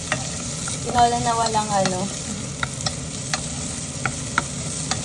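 Ginger sautéing in a pan for chicken tinola gives a steady close sizzle broken by scraping stirs and small utensil ticks, with a short stretch of talk near the start.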